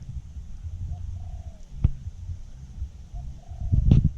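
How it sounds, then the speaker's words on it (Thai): Soft cooing calls of a fishing bird played through a loudspeaker repeat a few times over a faint steady hum, with a couple of sharp clicks and a louder rustling thump near the end. "นี่ครับคือเสียงนกปลา"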